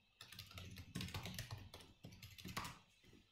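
Someone types on a computer keyboard, with quick irregular bursts of close, crisp key clicks and short pauses between them, no speech.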